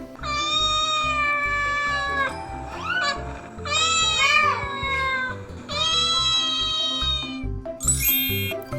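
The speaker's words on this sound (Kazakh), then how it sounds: "Мысық." A domestic cat meows three times in long, drawn-out, clear cries separated by short pauses, close and fairly loud.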